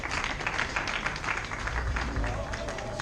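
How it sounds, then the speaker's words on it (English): A crowd at a graduation awards ceremony gives a steady round of applause, with a voice faintly audible underneath. "Let's clap for them"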